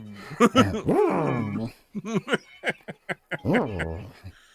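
A husky-type dog groaning and whining in drawn-out, upset vocal moans, close and loud, in a series of short uneven bursts.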